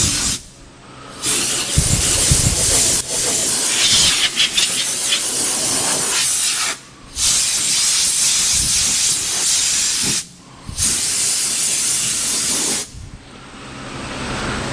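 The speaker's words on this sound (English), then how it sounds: "I'm gonna blow all the dirt out of this thing." Compressed air blasts dirt out of a Chevy C10 truck in long, loud, steady hissing bursts separated by brief pauses.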